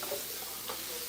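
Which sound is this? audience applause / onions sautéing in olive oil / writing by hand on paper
onions sautéing in olive oil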